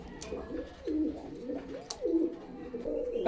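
Pigeons, a mix of Pakistani royal teddy, Oman and red-tiger breeds, coo repeatedly in soft, low rolling calls close by, with occasional chirps and faint rustling between the phrases.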